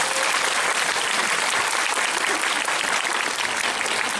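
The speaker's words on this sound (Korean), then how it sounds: "여러분 큰 박수 부탁드립니다" Audience at a Korean film festival Q&A session applauding steadily and loudly for the whole stretch, dense continuous clapping with no pauses.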